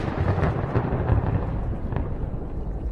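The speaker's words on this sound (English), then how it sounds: "There was a thunderstorm." Thunder from a thunderstorm rumbles as a loud, continuous low roar with a few sharper cracks, filling the whole stretch without any voices.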